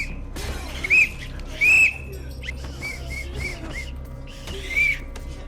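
A whistle being blown in short shrill bursts, three loud blasts spread over a few seconds, with softer chirpy tones between and faint background sound.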